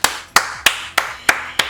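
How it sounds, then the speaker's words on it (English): Six sharp hand claps in a steady, even rhythm, each a crisp broadband slap with a short decay, close and alone with no talking. "give your girl a hand clap."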